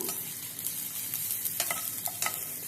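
Chicken pieces with green chilies being sautéed in a pan, a steady soft sizzle broken by scattered scraping stir strokes, close and moderately quiet, with no voices.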